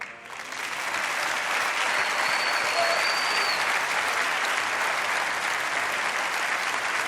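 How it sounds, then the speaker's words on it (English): A big round of audience applause at the 2019 FIM MotoGP awards ceremony for a Moto3 rookie, a dense, loud, steady wash of clapping that swells in the first second and holds evenly throughout. "let's have another big round of applause, please"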